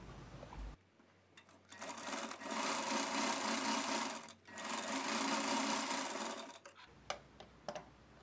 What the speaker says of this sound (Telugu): ఇలా కుట్టి మళ్ళీ చెక్ చేసుకోవాలి